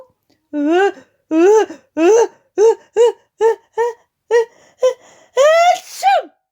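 A voice imitates a wolf's sneeze in a told story: a run of rising, gasping breaths building up, then a loud, exaggerated sneeze at the end.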